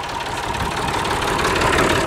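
A tractor engine idles close by with a steady, slightly rough mechanical churn that holds an even level without any voices over it.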